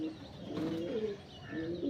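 Cut-eyed Punjabi kacchi pili pigeons coo nearby in soft, rounded calls, one phrase in the middle and another toward the end, with no talking.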